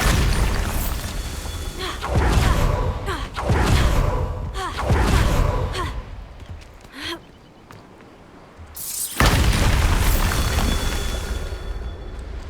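Booming Bombarda explosion spells from Hogwarts Legacy, several heavy blasts in quick succession with a pause and then another loud burst, close and dominant over the game's background.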